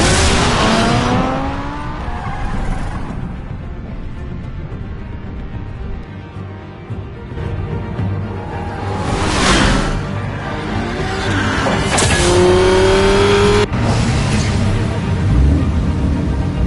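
Video game car driving, a loud engine drone with rising revs and several sweeping gear-change whines, plus bursts of screeching tires or skids, continuous and close.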